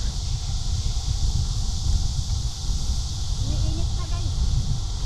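Steady wind rushes across the microphone along a bike path near Mungyeong, Ihwaryeong and Saejae in Korea, a loud constant low roar that runs through the whole stretch, with faint background voices.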